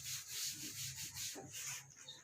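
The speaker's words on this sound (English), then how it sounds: "I have to rub this out first." Writing is rubbed off a classroom board in a few quick back-and-forth strokes, a soft, close, dry scrubbing hiss.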